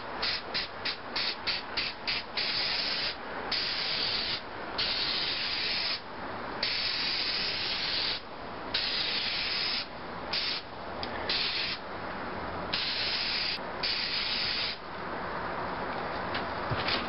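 Aerosol spray paint hissing onto a sprocket in a series of steady bursts, some short and some long, separated by brief pauses, close and fairly loud.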